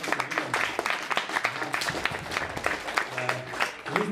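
A crowd claps through a stand-up comedy show at a student dormitory. The clapping is dense and steady, and someone speaks over it now and then.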